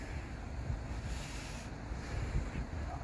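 Wind gusting across a lakeside carp fishing spot, a steady low rumble buffeting the microphone for a few seconds, fairly loud, with no speech.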